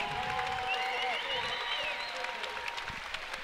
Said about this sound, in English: Standing ovation from both sides of this gymnasium